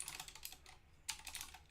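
JavaScript code is typed on a computer keyboard in a faint, continuous run of quick keystrokes, with a slightly sharper tap midway.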